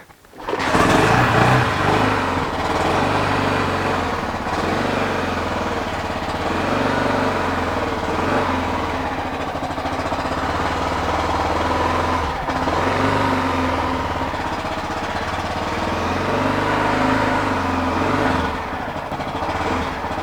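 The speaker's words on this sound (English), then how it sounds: "This bike even smells good when it starts up" A Honda XR600R dirt bike's single-cylinder engine catches after a kick start and settles into a loud, steady idle close by, with a few slight swells in rhythm and no talking.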